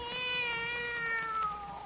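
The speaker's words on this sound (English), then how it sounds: "Oh, there's a cat now." A black cat gives one drawn-out, wavering meow, close and clear against a quiet background, lasting nearly two seconds without any speech.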